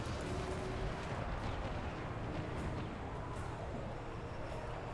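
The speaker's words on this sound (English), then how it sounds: "Both mortars are still firing." Mortar batteries firing in Total War: Warhammer, a steady dense wash of distant booming and rumbling artillery with scattered sharper reports, continuous and loud without any voices.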